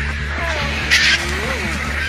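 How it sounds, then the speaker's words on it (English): Scavenging birds squabble over a lion kill carcass, giving sharp harsh calls and a brief raucous burst amid a steady outdoor background, with a low voice talking beneath. "50 ravenous birds jostle for a position where they've ripped the carcass open."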